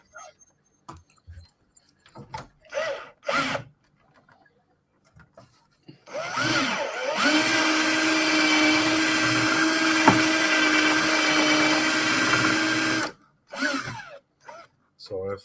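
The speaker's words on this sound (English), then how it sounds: "I need to drill this out a bit more" A power drill bores out a hole in a plastic Spitfire Mk 1A model part, giving one steady, close whirring burst of about seven seconds, with short handling noises and brief speech before and after.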